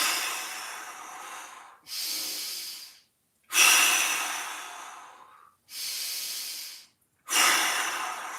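Deep, slow breaths during a mobility and pelvic stability exercise session: five long airy inhales and exhales, each a couple of seconds, separated by brief silent pauses, close and clear.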